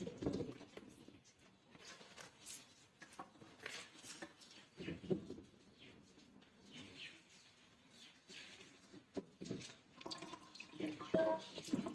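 Coconut milk pours and drips as grated coconut is squeezed by hand to make homemade cooking oil, giving faint, irregular liquid patter and splashes against a quiet background.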